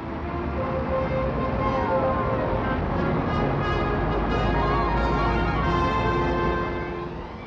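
Dense motor car traffic crawling along Oxford Street in London, a steady, continuous roar of engines and mixed road noise with faint tonal whines, loud and close throughout with no talk.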